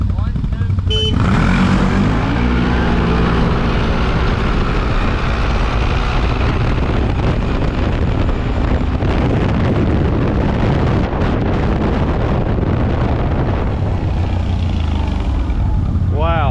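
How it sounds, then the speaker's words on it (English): A CFMOTO CFORCE 1000 ATV fitted with an Overland clutch kit takes off in four-wheel drive, a loud close engine roar with heavy wind buffeting and rumble that swells and holds, voices shouting briefly at the start. "we're going to take off in four-wheel drive this time"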